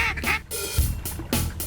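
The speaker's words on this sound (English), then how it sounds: "Those mallards were bowing in here big time." Mallard ducks quack loudly and close in a few raspy bursts, with a pause between calls.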